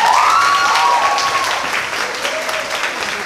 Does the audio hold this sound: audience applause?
yes